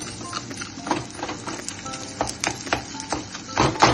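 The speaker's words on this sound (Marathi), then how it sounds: "तूप चांगलं गरम झालंय, त्याच्यामध्ये हा डिंक फुलवून घ्यायचा चांगला" Edible gum (dink) puffs and sizzles in hot ghee, giving scattered crackles and soft pops along with a little stirring, all fairly close and with no talk.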